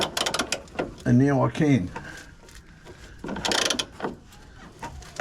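A ratchet wrench loosens a bolt on the swingarm of a VY Ute during bush and bearing replacement: short bursts of rapid metallic clicking, close by, with someone briefly speaking between them.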